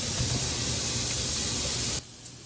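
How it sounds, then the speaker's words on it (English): Food steaming under a lid on a stovetop gives a steady, loud broadband hiss for about two seconds, then cuts off sharply to a much quieter background. "It will steam on its own, guys."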